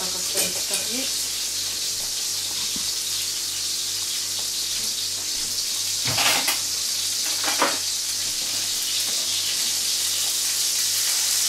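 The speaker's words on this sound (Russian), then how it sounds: "Так что жарим мы мясо комплексно." Pork chops sizzle steadily in a hot pan, a constant crackling hiss broken by a few scrapes and clinks of stirring.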